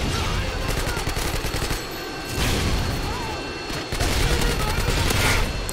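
Heavy automatic gunfire from a Harrier jet in Modern Warfare 2, loud and dense, rattling almost continuously with a short lull partway through before resuming strongly.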